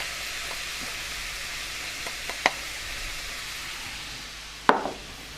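Onions going into a hot pan for a chana saag curry bring a soft, steady sizzle with a couple of sharp clinks and a louder clatter near the end, fairly faint and with no voices.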